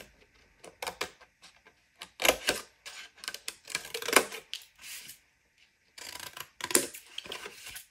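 Scissors snipping paper and card for a handmade scrapbooking birth box, irregular bursts of crisp close cuts and rustling with short pauses between, no speech.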